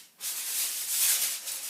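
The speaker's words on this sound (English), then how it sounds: "So you place the tin foil down," Sheet of tin foil pressed down and smoothed flat by hand on a studio worktop, a steady close crinkly rubbing rustle lasting under two seconds, with no talking.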